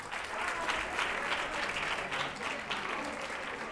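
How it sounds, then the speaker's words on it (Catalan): A studio audience applauds a contestant on a Catalan word quiz show, steady dense clapping that holds at an even level for a few seconds without talk. "Un aplaudiment per la Paula."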